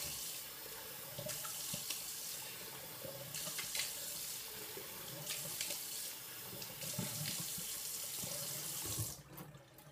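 Tap water runs steadily into a sink while a razor is rinsed after a traditional wet shave, a loud continuous splash that cuts off near the end.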